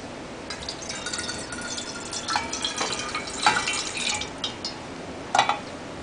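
Pineapple juice poured off chopped pineapple makes light dripping and trickling splashes into a container, with a few brighter spatters near the end; no one speaks.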